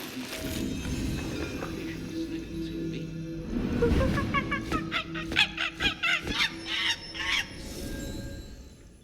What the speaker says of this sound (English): The seagulls are such scavengers.